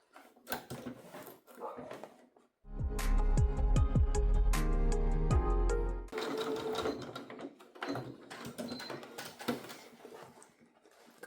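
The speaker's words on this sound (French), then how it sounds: "Et je viens faire une surpiqûre tout le long." A sewing machine whirs steadily for a few seconds as it topstitches along two flattened fabric pieces of an origami-style pouch, near and loud, framed by quieter handling noises and a voice talking before and after.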